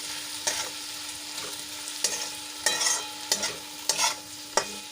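Masala being stirred and sautéed in a pan for moong pulao: a spoon scrapes and clatters in repeated strokes about every half second over a steady frying sizzle, close and fairly loud.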